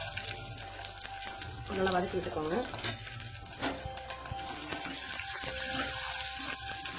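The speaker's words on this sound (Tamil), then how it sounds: "பொரிஞ்சு இப்போ நம்ம வந்து வெங்காயம் போட்டுக்கலாம்" Onions sizzle and crackle in a clay pot for karuvattu kuzhambu, a steady fry close by with stirring scrapes, while someone talks over it.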